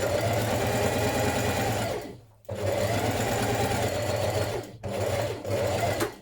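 Sewing machine stay stitching along the neck edge of a New Look 6483 blouse, a fast steady mechanical whirr with a rapid needle rhythm, running in two bursts separated by short stops, close and continuous.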